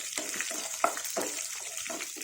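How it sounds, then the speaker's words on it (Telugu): Drumstick pieces frying in a pan for a curry with amaranth greens and onion, a steady hiss with repeated stirring scrapes and soft clatter, close and moderately quiet with no talk. "ఇదండి ములక్కాడ వేసేసాను. కొంచెం వేగినట్టుంటే ఉడకటం తొందరగా ఉడుతాయండి."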